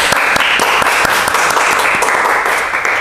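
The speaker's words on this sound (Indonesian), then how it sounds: "Tepuk tangan dulu dong" Applause from a small podcast audience, a steady wash of clapping with distinct individual hand claps popping through for a few seconds, fairly close and loud.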